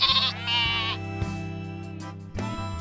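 Sheep on a farm bleat loudly and close by, several overlapping wavering calls in quick succession over about three seconds.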